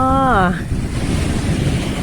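Wind and sea waves at a beach make a loud, steady roar of gusting air and surf. A short voice is heard at the very start before the wind takes over.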